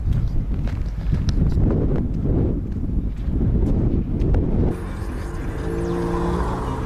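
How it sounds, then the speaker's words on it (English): Heavy wind buffeting a microphone in loud gusting rumbles, then easing to a lower steady rush with faint background hum. "Flipping heck, it's windy."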